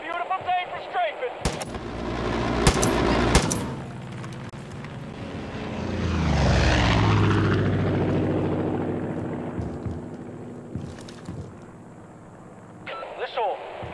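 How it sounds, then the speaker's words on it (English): Aircraft strafing with machine-gun fire in the video game Far Cry 5: sharp gun bursts at the start, then a loud engine swoop that builds and passes through the middle, with voices talking over it. "It's a beautiful day for strafing."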